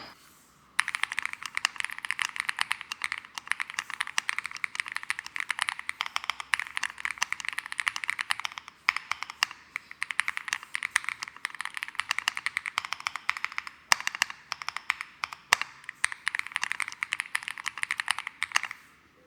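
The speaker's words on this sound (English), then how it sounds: "I absolutely love how the keyboard sounds" Steady, fast typing on a Womier SK75 aluminium mechanical keyboard with crisp, bright clacks, close up and continuous, with only brief pauses between bursts.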